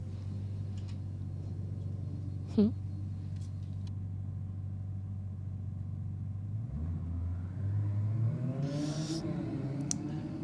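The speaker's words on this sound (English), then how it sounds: "As the Raid Lambo making an appearance the first time tonight, takes off, continues through" A Lamborghini roll racing car launches and pulls away at a street race event, its engine note climbing from a steady low rumble into a rising rev, with a brief sharp sound earlier and crowd-like ambience around.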